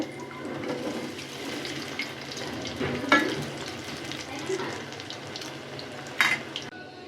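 Pointed gourd (potol) pakoras fry in hot oil with a continuous crackling sizzle, broken by a few sharper clinks and splashes as pieces are added and turned; no talking.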